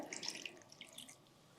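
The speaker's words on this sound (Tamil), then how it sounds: "இன்னும் கொஞ்சம் தண்ணி ஊற்றிட்டு வடிகட்டிக்கிறேன்" Water poured over soaked kokum fruit and strained while making kokum juice, a soft close pouring and trickling that fades after about a second.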